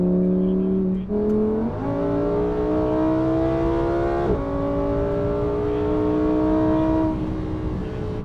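A Lamborghini Huracán EVO engine in sport mode revs through several rising pulls, its tone climbing, dipping at each gear change and climbing again, loud and steady from inside the car with no talking.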